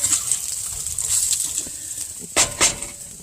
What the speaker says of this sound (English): So while the chicken is crisping up here,